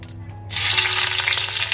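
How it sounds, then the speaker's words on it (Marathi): A quiet start gives way to a sudden burst of loud, steady sizzling as garlic hits hot oil in a wok and keeps frying. "इकडे कढईमध्ये तेल करून आपल्याला फोडणीसाठी इकडे लसूण घेतलंय"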